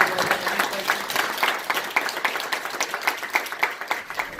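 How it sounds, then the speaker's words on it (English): An audience at a university event claps for itself, the applause dense at first and then thinning into distinct, rhythmic individual claps toward the end, fairly close and with no voices on top. "just give yourselves a good round of applause"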